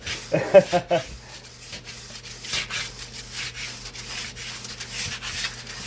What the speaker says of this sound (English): I'm just going to keep sanding on this thing, smoothing everything out.